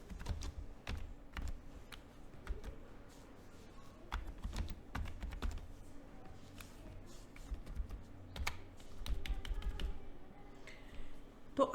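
Computer keyboard typing while working in a Microsoft Excel spreadsheet, scattered close keystrokes in short irregular runs with pauses and a few louder taps, quiet room, no talking.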